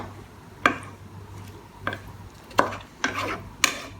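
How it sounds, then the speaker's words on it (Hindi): Salted mutton gosht being stir-fried with masala in a pot, with five sharp spatula strokes at uneven intervals over a low, quiet background. "मैं इसको 10 मिनट तक भूनूंगी।"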